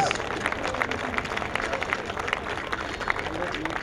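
An audience at a culinary competition closing ceremony applauds, scattered claps rising into a steady patter of many hands, moderately distant, with crowd murmur and some talk mixed in.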